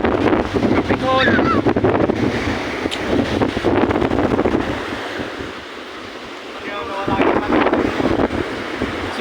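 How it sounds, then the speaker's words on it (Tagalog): Strong sea waves crash on a white sand beach, a loud, continuous roar of surf with heavy wind buffeting the microphone, swelling and easing over several seconds, while people talk faintly in the background. "malakas pa rin ang alon pala dito"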